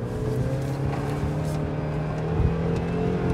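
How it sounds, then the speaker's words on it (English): A spring jumper car doing backwards donuts, its engine holding a steady droning tone with rising revs and a slight surge midway, loud and close with no talking. "Love donuts, especially backwards ones."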